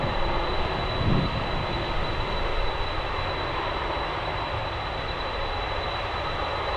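A Korean Air Cargo Boeing 777 freighter arriving at Anchorage in a crosswind, heard as a steady, fairly loud broadband engine roar that holds evenly throughout, with no talk.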